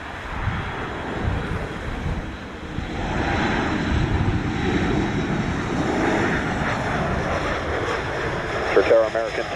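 Airliner approaching to land on runway 07 at Montego Bay airport, a broad engine roar from a distance mixed with wind buffeting on the microphone and faint speech.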